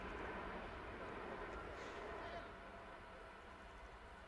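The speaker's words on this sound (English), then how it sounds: "As another train comes through" A train passes close to a T10 European Cricket ground, a loud, steady, broad rumble that eases slightly partway through, with a commentator talking over it.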